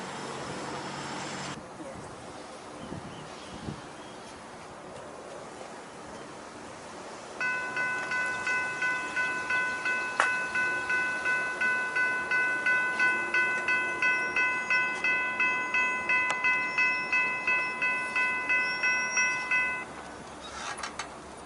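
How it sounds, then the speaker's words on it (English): Two SD60E freight locomotives pass close by in Irondale, Alabama, beside the city hall, sounding a loud sustained horn chord over a rhythmic pulsing rumble of wheels and cars that lasts more than ten seconds. "we catch the same two SD60Es about to pass us."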